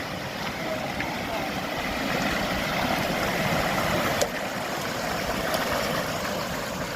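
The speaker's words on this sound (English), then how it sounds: "Another major stream ahead." A mountain stream in the San Gorgonio Wilderness rushes steadily nearby, a broad continuous water noise that swells slightly midway, with a faint click or two over the flow.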